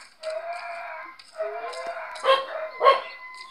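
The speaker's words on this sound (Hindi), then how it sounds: "अबे कुत्ते क्यों भौंक रहे हैं?" Dogs bark in Minecraft, a series of close, loud yelping barks with whining tones, the last two sharp and punchy.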